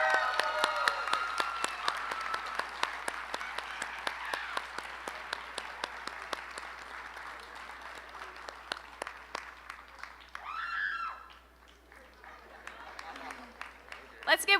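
Scattered hand claps from a graduation ceremony audience honoring a high school awardee, a sparse, distinct run of individual claps that thins out, with a brief voice near the end.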